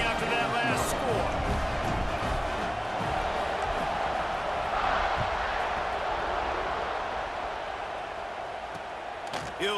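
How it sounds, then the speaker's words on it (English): A stadium crowd buzzing after a score in the EA Sports College Football 26 video game: a loud, steady, continuous roar of many voices filling the whole stretch. "this crowd is buzzing after that last score"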